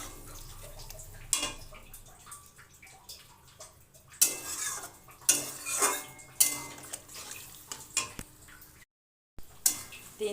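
A spoon scrapes and clatters against a metal pot as ridge gourd curry is mixed after masala and water go in, with repeated sharp clinks and scrapes coming in uneven bursts close by and no talking.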